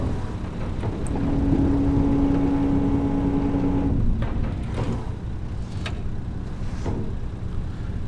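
A Valtra tractor in Farming Simulator 22 runs with a steady engine rumble, a whining tone rising briefly, then a few light clunks and rattles as it shifts into reverse.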